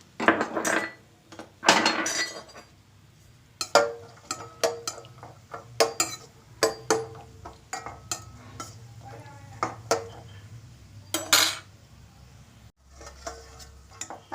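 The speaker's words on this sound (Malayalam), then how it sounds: "ഇനി നമുക്ക് നമ്മൾ എടുത്തു വെച്ചിരുന്ന ആ അണ്ടിപ്പരിപ്പ് ഒന്ന് മൂപ്പിച്ചെടുക്കാം" Cashew nuts roasting in a pan while being stirred for poha chivda, with a series of sharp metallic scrapes and clinks of a spoon against the pan, irregular and close, over a low background hum.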